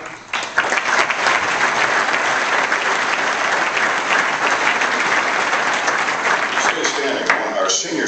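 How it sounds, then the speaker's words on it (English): Sustained audience applause at a university athletics booster club breakfast, dense and steady throughout at moderate loudness, with a few voices mixed in. "we'll give him a nice round of applause"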